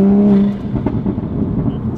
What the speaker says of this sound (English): but everything else, this car sounds so good.